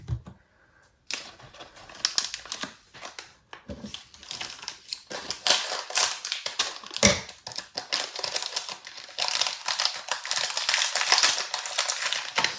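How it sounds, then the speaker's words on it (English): Packaging crinkles and crackles in irregular bursts while a gingerbread house is decorated, close and moderately loud, with sharp snaps scattered through the sound. "Sorry for the crinkling."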